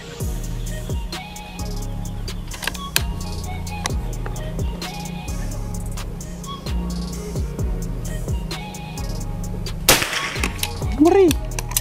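A PCP air rifle, a Predator Tactical Pajero Gun Gen 5, fires a Hercules pellet: one sharp, loud crack near the end, over a steady low hum and some background noise.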